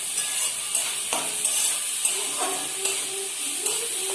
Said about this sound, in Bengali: এটা মাঝে মধ্যে একটু একটু করে নেড়ে নিতে হবে, ভাজা হয়ে যাবে তাড়াতাড়ি।